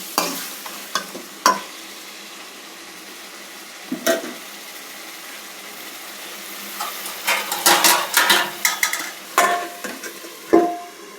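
Tamarind being sautéed in oil in a pan for avalakki, with soft frying sizzle under occasional sharp clinks and scrapes of a spatula, growing busier toward the end.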